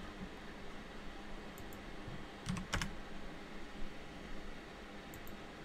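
Typing on a dirty computer keyboard during a baseball management game session, soft scattered keystrokes with a brief burst of clicks, faint over steady background hiss.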